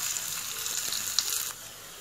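Onion sizzles in ghee in a pan while being fried for savoury wheat porridge, a crackly close frying hiss that runs evenly for about a second and a half before fading quieter.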